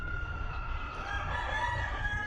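A backyard rooster crows in a long drawn call over a low rumble of background noise, with faint farmyard sounds around it and no talking.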